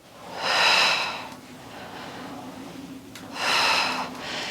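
Two forceful exhales from a person working out on a Pilates reformer, each a breathy rush of air lasting under a second, separated by a quieter stretch, close and fairly soft with no talking.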